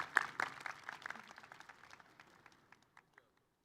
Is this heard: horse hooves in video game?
no